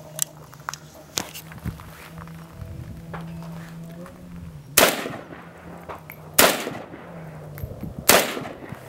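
An AK47 rifle fires three loud, sharp shots spaced a couple of seconds apart, each with a ringing tail, after quieter handling clicks and a low steady hum.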